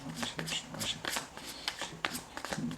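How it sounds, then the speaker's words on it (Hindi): A deck of tarot cards is shuffled by hand, with quick riffling and flicking bursts close up and speech faintly underneath. "तो चलिए हम शुरू करते हैं, शफल करते हैं कार्ड्स को।"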